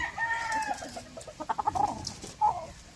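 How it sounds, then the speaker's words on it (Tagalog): A broodcock rooster of the sweater gamefowl line clucks in a short series of close, choppy calls, ending with a sharper squawk. "Ito naman yung 5K sweater na broodcock natin."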